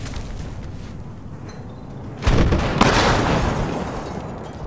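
A burst from an incendiary grenade in the video game Battlefield Hardline, a loud broadband whoosh that erupts suddenly and then roars on steadily, crackling, with a sharper pop near its peak.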